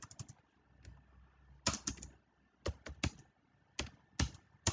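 A command being typed on a computer keyboard, with quick clusters of close, crisp key taps in short bursts and pauses between them, heard alone without speech.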